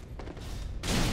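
Gunfire in a Dark Souls 3 Convergence mod run at Smouldering Lake, a sudden loud bright burst near the end following a stretch of low rumbling game ambience.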